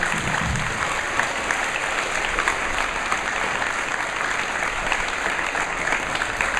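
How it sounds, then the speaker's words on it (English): A school audience applauds steadily from a balcony during a presentation, the dense clapping filling the space evenly and continuing without a break. "One more round of applause, everyone."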